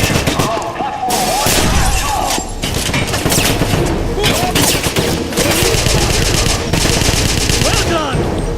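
Automatic weapons fire rattles in rapid bursts during a train station battle in the 2009 Wolfenstein video game, loud and dense with booms and shattering mixed in, and game voices calling out between the volleys.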